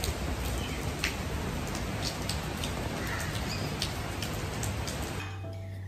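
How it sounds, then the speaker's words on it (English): Steady rain falls outdoors on a morning in Malaysia, a dense even hiss with scattered sharper drops, continuous and fairly close for about five seconds before cutting to near quiet. "I'm gonna get drenched in this rain."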